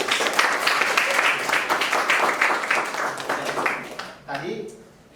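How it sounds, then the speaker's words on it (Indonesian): Applause in a classroom, with many hands clapping steadily and fairly close for about four seconds before it dies away and a voice begins to speak. "Luar biasa, tepuk tangan buat Mas Ajis"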